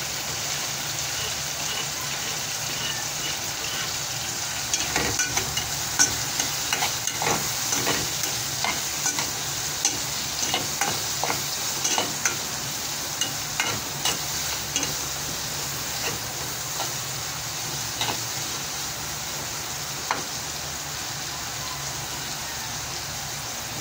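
Garlic sizzles and fries in a hot pan while being stir-fried, a loud continuous crackling hiss broken by regular scraping stirs of the spatula, with no talk.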